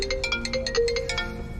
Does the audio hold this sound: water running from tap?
no